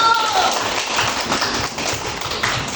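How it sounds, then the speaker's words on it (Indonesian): A group claps together for the first presenting team in a teacher-training class session, a dense, steady patter of many hands that holds at an even, fairly loud level for the whole stretch. "Ya, tepuk tangan untuk kelompok satu."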